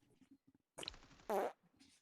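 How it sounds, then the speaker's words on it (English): A fart blown close into a gaming microphone during a mobile shooter session, a loud buzzy burst lasting about a quarter second, preceded by faint muffled voice-like sounds and followed by near silence. "I just farted on my mic."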